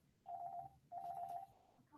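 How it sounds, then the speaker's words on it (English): Two short electronic telephone rings sound for an incoming call, each a buzzing warble lasting about half a second, separated by a brief pause and heard faintly over a low room hum. "now I have a phone call."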